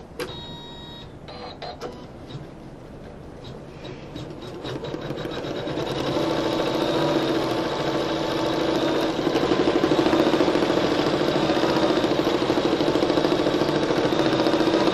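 Sewing machine running a continuous basting stitch through layered appliqué fabric in red thread, starting with brief stops and settling into a steady, fairly loud mechanical whir that builds and holds.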